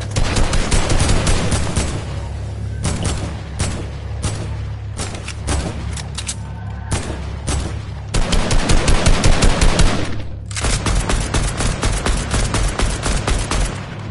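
Rapid automatic AK rifle fire in a shooting video game, long sustained bursts of loud cracking shots broken by brief pauses, over a steady low background hum.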